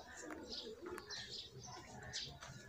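A racing pigeon coos repeatedly in a village pigeon-flying contest, soft throaty calls rising and falling over a busy outdoor background with other bird chirps and faint voices.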